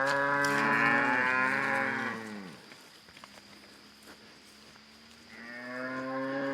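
Cattle on farmland by a pond moo loudly and close by, one long drawn-out low call followed by another after a quieter pause, with no talking.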